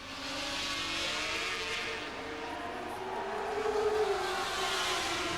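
Racing motorcycles accelerate together on a race track, a broad steady engine roar that swells and wavers over several seconds with a rising whine near the end, heard from a distance without talk.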